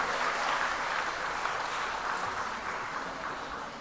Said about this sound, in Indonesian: Mari kita beri tepuk tangan yang meriah untuk sambutan dari Bapak Menteri Agama Republik